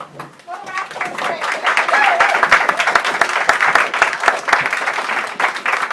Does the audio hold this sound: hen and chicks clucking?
no